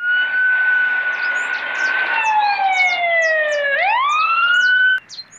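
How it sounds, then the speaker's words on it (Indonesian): A fire engine siren wails loudly and close, holding a steady tone before dropping and sweeping back up, with chirping birds faintly behind. "Di sini ada mobil pemadam kebakaran."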